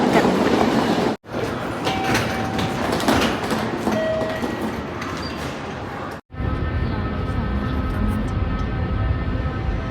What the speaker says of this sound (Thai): รถไฟมาเรียบร้อยแล้วนะคะ